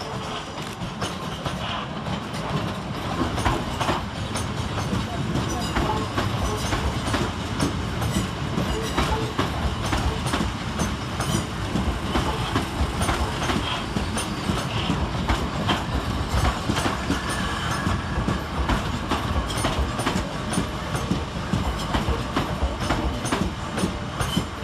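Southeastern Class 465 electric multiple units 465 904 and 465 037, running together, pass fast through Strood station with a loud, continuous rush and steady clickety-clack of wheels over rail joints, close by and lasting throughout with no voices.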